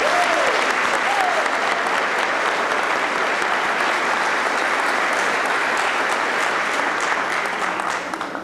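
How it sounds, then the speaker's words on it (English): Sustained audience applause fills a school auditorium during a high school National Honor Society induction ceremony, a dense steady wash of clapping that holds loud throughout and begins to thin at the very end. "Can I please have a round of applause?"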